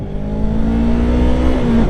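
A motorcycle engine braking in traffic gives a loud, steady drone whose tone slides slowly downward as the bike slows, with no talk.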